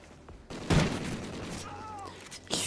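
Gunfire from a fully automatic weapon in the online shooter Call of Duty: Ghosts, with a loud burst of shots near the start, then game effects and faint voices underneath.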